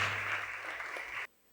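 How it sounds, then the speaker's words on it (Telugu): A church congregation claps during a Rosary Mother feast-day Mass at a parish festival near Warangal: a short, full burst of applause that stops abruptly after about a second. "చప్పట్లతో కృతజ్ఞతలు తెలియజేద్దాం."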